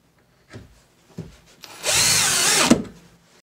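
A power drill drives a screw into a wooden honey bee swarm trap: a couple of short taps, then a loud, steady whirring burst lasting under a second before it stops, close up with no talking.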